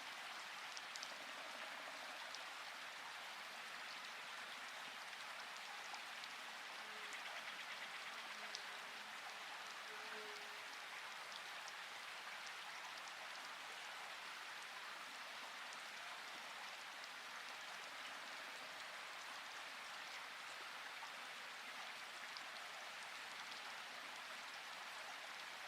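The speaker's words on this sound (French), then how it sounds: "Remarquez la constance de la pluie, toujours là, toujours apaisante." Gentle, steady rain falls as a soft, even hiss that holds at the same low level throughout, with no voices or other sounds.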